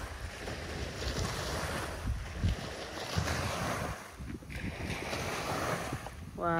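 Sea waves washing against a pier at Horten on a calm day, a steady broadband wash close by with wind noise buffeting the microphone throughout.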